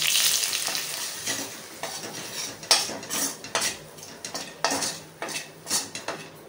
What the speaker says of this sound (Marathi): त्याच्यावर आता आपण बेसन आहे ते भाजून घ्यायचं आहे